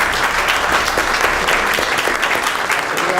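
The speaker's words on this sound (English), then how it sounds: "we all need to give Kurt Miller an incredible round of applause for what he's done" Members at a Sierra Club meeting break into loud, sustained applause for a departing program chair, a thick wash of many hands clapping close and steady throughout.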